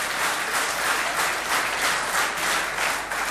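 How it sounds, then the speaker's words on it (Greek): Sustained applause from a large audience at a nationwide political party meeting in Greece, dense steady clapping with rhythmic surges, loud and continuous with no voices on top. "σας ευχαριστώ θερμά για την υποδοχή, για το ζεστό και ειλικρινές χειροκρότημα"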